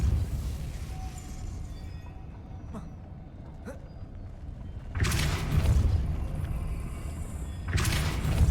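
Depulso force spell impact in Hogwarts Legacy, two loud broadband blasts arriving a few seconds apart over a low rumbling game ambience.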